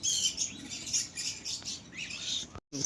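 Pigeons in a loft or cage, scattered soft calls and chirps mixed with fluttering movement close by, ending in a brief sharp knock.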